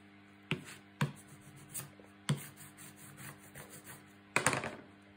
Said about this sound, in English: finally just burnish it all down